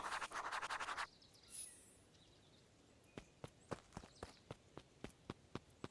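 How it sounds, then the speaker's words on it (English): Footsteps in the video game Beacon Pines, a dozen sharp, evenly paced steps growing louder as they approach after a brief rustling burst and a short swish. "Luca heard a group of footsteps approaching."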